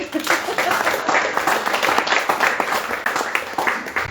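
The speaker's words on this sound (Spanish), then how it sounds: "Un aplauso para Tere, por favor" Audience applause at a book presentation of La Hacienda de la Soledad at the Fondo de Cultura Económica, steady dense clapping from a seated crowd lasting throughout, fairly close and even in level.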